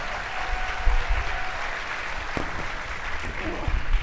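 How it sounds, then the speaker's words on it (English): Audience applause for Imagineering experts at a Walt Disney World fan event: broad, moderately quiet clapping from a large crowd, steady over four seconds, with occasional thumps and faint voices beneath. "Please give him a big round of applause, everybody."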